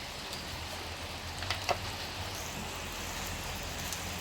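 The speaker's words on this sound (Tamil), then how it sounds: "மழை வந்துட்டு" Rain falls in a steady, soft patter, with a couple of brief louder drips or taps partway through and no voices over it.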